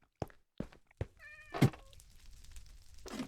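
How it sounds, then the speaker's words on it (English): A single short cat meow from Minecraft sounds amid a few soft thuds and clicks of in-game movement, fairly faint with no talking over it. "Somebody's cat somewhere."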